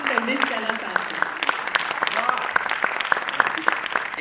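An audience applauds at a Marathi film trailer launch for Fussclass Dhabhade, with steady, dense clapping throughout and voices audible over it.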